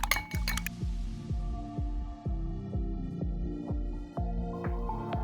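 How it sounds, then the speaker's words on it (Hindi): Eggs for an omelette paratha are beaten briskly in a bowl, giving a steady, rapid rhythm of wet clinks and taps close by, with no talking. "सबसे पहले अंडे फेंट लेंगे अच्छी तरह से"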